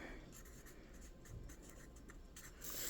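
A pen writes a label by hand for a jar of mullein tincture, giving a close, quiet run of scratchy strokes and short dashes over a faint background hum, with a slightly louder final flourish.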